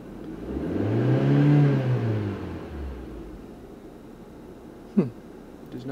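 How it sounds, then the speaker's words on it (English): A car engine revs up into a rising drone, then settles back to a steady idle hum, with a brief clank near the end. "So revving the engine."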